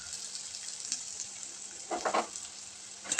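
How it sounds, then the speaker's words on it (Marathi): Boiled potatoes sautéing in hot oil with salt in a pan: a constant close sizzle, with a short burst of louder stirring and scraping near the end. "आणि तेलामध्ये छान बटाटे परतून घ्यायचे."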